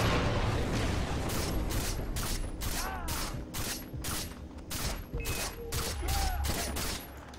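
Rapid gunfire in a Far Cry 3 firefight against a sniper, a dense run of sharp repeated shots over loud rumbling battle noise, close and sustained across the moment.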